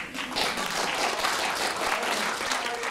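A live audience at a core-strength exercise talk breaks into a sustained round of applause, dense steady clapping filling the room from start to finish with no voices over it.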